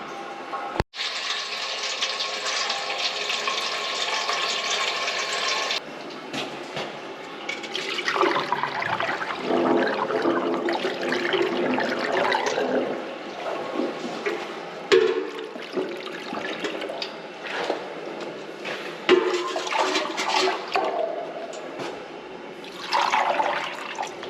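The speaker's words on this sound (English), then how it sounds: "I'm just filling the pipe up at the moment" Water is poured down into a taped, repaired rainwater gully pipe with a suspected blockage, giving a steady rushing, gurgling pour that runs on for many seconds with a few pauses and changes in flow.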